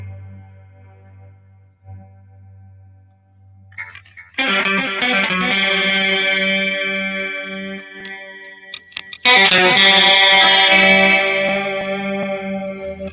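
An electric guitar played through a distortion effects unit rings out loud in two sustained chords with a long decay, preceded by quieter muted picking and hum.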